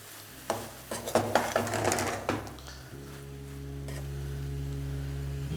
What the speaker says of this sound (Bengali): আর সোয়াবিনগুলো দেওয়ার পরে এইভাবে এটাকে ভালো করে কষাতে থাকুন।